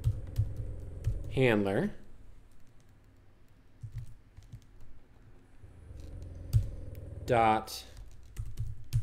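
Steady clicking of a computer keyboard as code is typed, continuous and close, with someone talking over it at two points.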